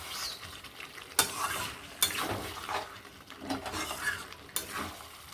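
Butter chicken being stirred in a pan, spatula scrapes sweeping through on a steady sizzle, with several sharp metallic knocks against the pan at close range.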